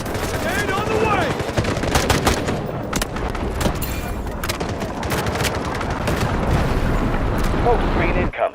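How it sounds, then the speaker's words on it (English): Dense gunfire and explosive blasts from guided missiles and grenades fill a Delta Force match, a near-continuous barrage of shots and booms with voice callouts mixed in. "Guided missiles launched. Grenade on the way!"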